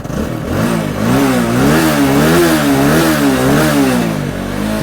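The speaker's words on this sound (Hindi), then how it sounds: "अब रेस दीजिए थोड़ा सा।" An Apache 200 cc motorcycle engine revs up and holds its pitch, loud and close. It rises and falls in a wavering drone with some mechanical clatter and no speech.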